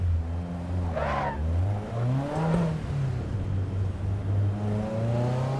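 A race car drives in the Assetto Corsa EVO video game, a steady engine drone that rises and falls through gear changes and revs, fairly quiet and smooth, with a brief whine early on.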